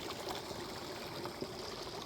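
Pond water keeps moving in cold weather with partly melted ice around it, a soft, steady trickle and gentle flow heard faintly at a distance, with no voices.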